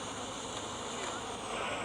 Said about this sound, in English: you're like covered in bees right now